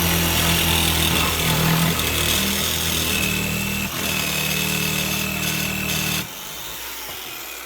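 Power saw cutting wood for a pergola build, a steady loud buzzing drone with a rough grinding edge that runs continuously, dips briefly midway, then cuts off near the end, leaving quieter background.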